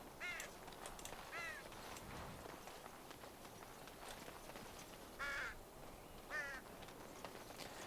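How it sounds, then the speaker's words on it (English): Crows caw in the Dragon Age: Origins PC game, giving a few harsh calls near 1.5, 5.3 and 6.5 seconds over a steady rustling in-game ambience, with no talk. "I think this is the only place you have crows."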